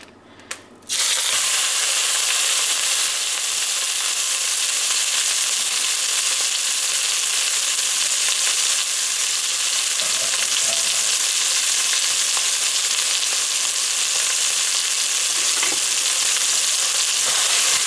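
One pound of ground bison meat fries in olive oil in a pan, a loud, steady sizzle that starts suddenly after a brief quiet moment and continues unbroken, with faint scraping and stirring beneath it.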